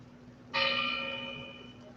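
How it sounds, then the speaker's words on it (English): A clock tower bell gong strikes once, loud and sudden, its bright ringing tone decaying slowly over a low background hum. "there's a gong going off in your ear"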